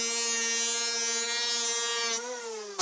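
Steady buzzing, harmonic-rich drone close by while planing a glued wooden furniture panel, shifting pitch slightly near the end before a sudden louder burst.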